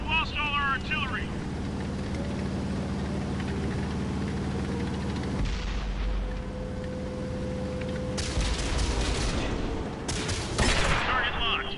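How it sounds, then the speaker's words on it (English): Heavy artillery barrages and gunfire in a console war game, with continuous rumbling explosions and engine drone throughout and louder bursts near the end, while game voices speak over the battle. "Artillery!"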